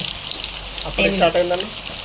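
Green chillies for mirchi bajji fry in hot oil, a continuous crackling sizzle with a brief tonal, voice-like sound near the middle.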